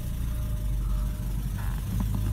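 A Porsche 944 Turbo engine idles steadily with a low, even rumble and no talk, heard up close for a couple of seconds.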